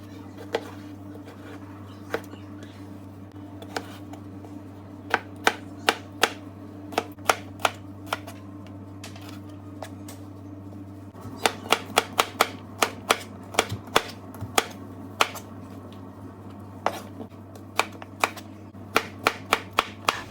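A knife chops vegetables into cubes for a cucumber salad, making sharp, irregular taps on a cutting board, sometimes in quick bursts, over a constant low hum.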